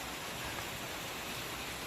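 Constant dense hiss of rain falling at a farm barn where sheep are kept, even and unbroken throughout with no voices.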